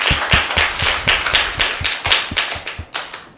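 Children in a TV studio clap steadily together, a brisk round of applause with sharp, even hand claps close by and no talk.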